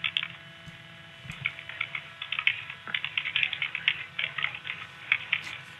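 Rapid, uneven keystrokes on a computer keyboard as a 911 dispatcher types during an emergency call, close and continuous over a faint steady mains hum.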